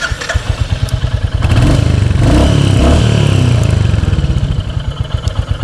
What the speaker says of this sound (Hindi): तो अब हम स्टार्ट करते हैं बाइक को।